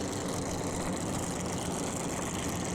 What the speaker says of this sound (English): these boats are so loud when you're in them, mainly because the only thing separating you from the engine really is your seat